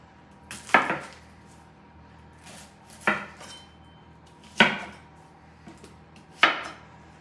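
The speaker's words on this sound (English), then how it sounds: "it's going to kind of cut the onion up roughly too" A knife roughly chops an onion on a board with four sharp, separate knocks a second or two apart, close and fairly loud against a quiet room, with no one speaking.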